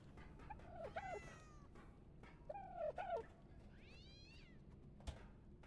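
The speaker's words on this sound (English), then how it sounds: "My cat doesn't sound very happy" An unhappy cat lets out several whiny, wavering meows at a moderate distance, separated by pauses, over a soft background hiss with a sharp click near the end.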